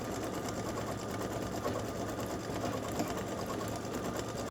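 An embroidery machine stitches a leaf outline with a steady, continuous mechanical whirr that holds at an even level throughout, close and unbroken, with no talk.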